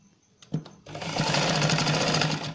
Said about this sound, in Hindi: अगर आप डबल सिलाई करना चाहें तो इसी पेपर के ऊपर ही हम डबल सिलाई भी कर लेते हैं।